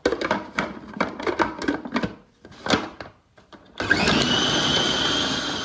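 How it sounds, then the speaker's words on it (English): A food processor blitzes crustless slices of cheap medium white bread into crumb for roach bait. A few clattering knocks come first, then the motor starts a steady, loud whirring grind that runs for about two seconds. "blitz in the food processor"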